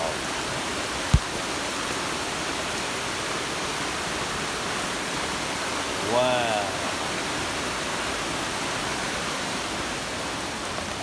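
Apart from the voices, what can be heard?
flash flood water rushing, carrying debris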